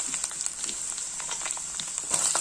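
Mustard seeds, curry leaves, ginger, garlic and shallots fry in hot oil, a close, steady sizzle with scattered pops and crackles of seeds bursting.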